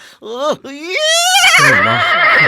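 A horse gives a loud, close whinny, a rising then wavering neigh lasting a couple of seconds, followed by a rougher trailing snort.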